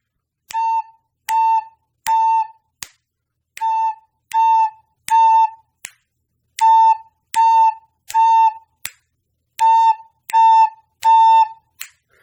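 A recorder plays a simple tune of steady, evenly spaced single notes, each separated by a brief pause, clear and solo with a faint click between notes.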